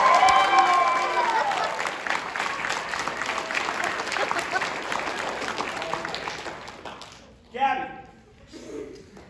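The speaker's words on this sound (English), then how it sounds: "But everybody give Abby a hand." An audience claps for Abby, a new troop member, with steady applause under a voice at the start, thinning out before a speaker resumes talking near the end.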